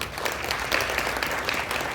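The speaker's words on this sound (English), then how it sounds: "Round of applause, please." Audience at a tech talk on building apps gives steady, continuous applause, a dense even patter of many hands clapping at moderate distance, with no pause throughout.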